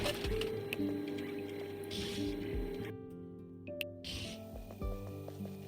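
A printer runs in the Discounty video game with a quiet mechanical whir and ticking. It plays alone at low volume amid soft tonal game ambience.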